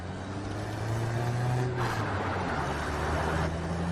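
A car's engine holds a steady droning hum and builds a little as it picks up speed on the road, heard from inside, continuous and fairly loud, with no talking.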